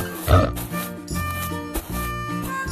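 A short, low cartoon pig oink sounds near the start, close and loud, then gives way to cheerful children's music.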